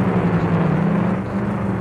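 A loud car engine in the driving game My Summer Car drones steadily and close, a low constant hum with a whirring layer that holds unbroken throughout, with no talking over it.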